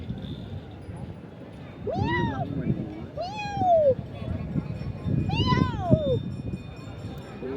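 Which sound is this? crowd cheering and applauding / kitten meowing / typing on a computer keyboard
kitten meowing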